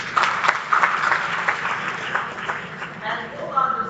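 An audience at a school graduation applauds the teachers, with steady clapping that continues under a speaker's voice.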